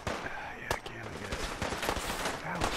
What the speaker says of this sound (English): super mutants with laser guns?